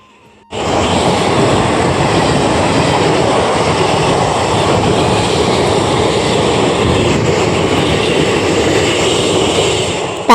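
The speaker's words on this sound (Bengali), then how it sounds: "তার আগে কিন্তু একটা এক্সপ্রেস ট্রেন ঢুকে গেল" An express train rolls into a station as one loud, steady, sustained rumble and roar of wheels and cars that begins abruptly and stays close and constant throughout, with no talking.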